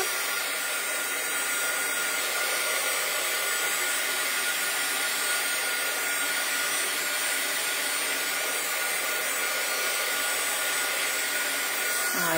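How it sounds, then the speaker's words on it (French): A heat gun blows steadily over wet watercolour paint on a craft background, a constant close whooshing hiss of hot air holding an even level for the whole stretch, with no voices. "Donc, pour aller plus vite, bah, je vais sécher avec mon pistolet à embosser. N'importe quoi. Avec mon pistolet chauffant."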